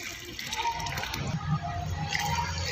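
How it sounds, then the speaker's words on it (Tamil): Water poured from a can onto the soil around a rose plant in a summer garden, a steady close splashing and trickle lasting throughout with no talk. "இப்போ செடிக்கு நல்லா தண்ணி கொடுத்துடலாம் ஃப்ரெண்ட்ஸ்."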